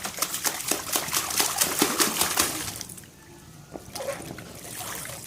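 A garden hose runs water at home while children swim, giving a close, splashy trickle and spatter for about three seconds before it drops to a quieter hiss with a few faint sounds.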